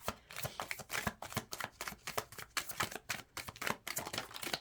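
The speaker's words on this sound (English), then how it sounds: "I did a wonky shuffle again." Tarot cards are shuffled close by, a rapid run of papery riffles and flicks with no talking.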